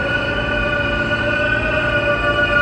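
An R160 New York subway E train on the local uptown track at Penn Station on 8th Avenue, a steady, loud rolling rumble with sustained tonal motor whine bands, close by and continuous, with no voices.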